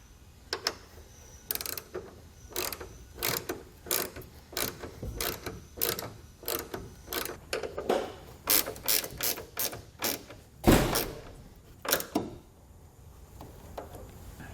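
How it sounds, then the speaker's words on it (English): Allen key ratcheting as bolts are tightened on a pickup truck tailgate assist lowering system, sharp repeated clicks in quick uneven bursts, close up and alone without speech. "Once that's started, we can come back and tighten both of the bolts down."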